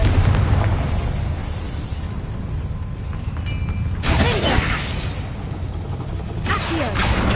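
The Confringo fire spell in Hogwarts Legacy bursts twice, loud near explosive whooshes with rumbling tails over a dense game soundscape; no talk is heard.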